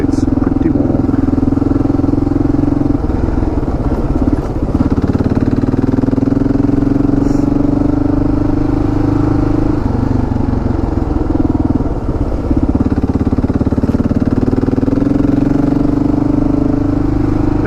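Adventure motorbike engine running steadily and loudly while riding sandy woodland tracks in hot weather, a continuous mid-pitched drone with wind rush, small dips in intensity, and occasional clatter over the whole stretch.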